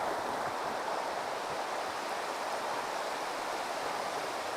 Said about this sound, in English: creek doesn't look too fast.